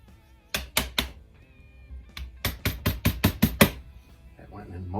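Sharp, close tapping knocks drive a pin back into a Barra 1866 CO2 rifle, first a few isolated strikes, then a quick run of about seven evenly spaced hits, with brief speech at the end.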